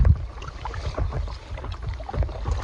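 An old inflatable paddleboard is paddled across a lake on a windy day, with soft, rhythmic splashes and swishes of paddle strokes close by against a low wind rumble.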